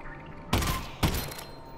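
Two loud gunshots fired in the VR video game Half-Life: Alyx, about half a second apart, each a sharp broadband blast with a short decaying tail, heard alone without talk.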